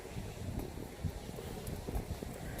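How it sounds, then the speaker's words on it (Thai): Steady gusting wind buffets the microphone with a low, continuous rumble and no voices. "เสียงลม ลมแห้งแห้งจ้ะ"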